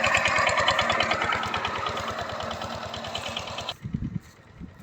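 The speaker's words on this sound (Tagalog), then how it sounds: "Ang gamit ko yung motor ng tubig." A water pump motor runs steadily on a farm, a close, loud rhythmic mechanical chugging that cuts off abruptly near the end, leaving faint handling noises.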